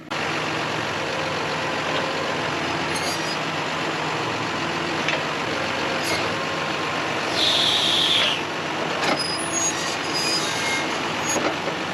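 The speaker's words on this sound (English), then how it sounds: "Running this tractor to get these rocks out is probably one of the most fun jobs on the farm" A farm tractor fitted with a grapple fork bucket idles and works steadily while lifting rocks, its engine a constant mid-pitched drone with occasional clanks and a brief higher whine partway through, no voices.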